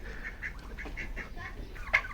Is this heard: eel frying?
no